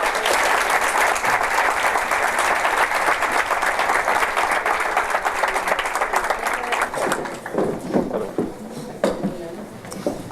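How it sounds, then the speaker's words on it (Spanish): Dense, loud audience applause greets a speaker being introduced at an indoor ufology talk, sustained for several seconds before thinning into scattered claps near the end. "Jesús Torrellas, un aplauso para él, por favor."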